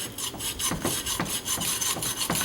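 Wire brush scrubbed in and out inside the recoil housing of a John Deere 56, a steady rasping, scraping rub with repeated strokes, close and fairly loud, no talking.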